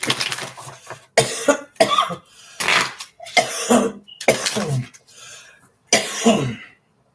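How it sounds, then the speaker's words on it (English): A series of loud, close coughing bursts, several separate fits with short pauses between them, some harsh and throaty. "I'm going through a bunch of burping and coughing and hiccuping."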